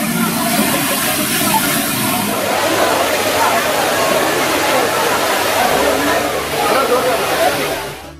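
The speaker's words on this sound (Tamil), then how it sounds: "மெயின் அருவி, 5 அருவி உள்ளிட்ட அனைத்து அருவிகளிலும் மிதமான நீர்வரத்து உள்ளதால் சுற்றுலா பயணிகள் மகிழ்ச்சியுடன் குளித்துச்" Waterfalls at Courtallam pour in a steady, loud rushing roar with tourists bathing beneath, faint voices and splashing mixed into the constant wash of water.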